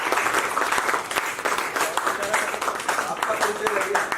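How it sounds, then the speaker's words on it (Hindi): Sustained applause from a theatre audience after a stage play, dense steady clapping that holds evenly at full strength throughout, with a faint voice or two mixed into the crowd noise. "अगर अच्छा लगा हो तो एक बार जोरदार ताली हो जाए।"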